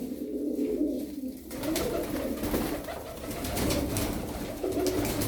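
Tumbler pigeons coo in soft, repeated low calls over a quiet outdoor background, with a denser flurry of sound and fluttering noise joining after the first second.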